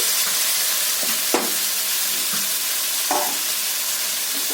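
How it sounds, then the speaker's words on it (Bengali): Mixed winter vegetables fry in a pan with a loud steady hiss of sizzling, punctuated by several distinct scraping stirs of a spatula at irregular intervals. "আমি আর একটু চাপা দিয়ে ভেজে নেব"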